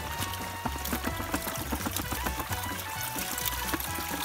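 Water is poured over a gold sluice ramp, an XP Gold Sluice VS1, giving a steady splashing, trickling wash with a quick patter running through it the whole time.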